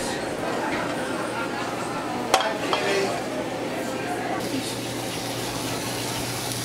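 Osso buco sauce bubbling and sizzling in a very hot pan as it reduces, a steady crackling hiss with a sharp clank of utensil partway through and low hum underneath.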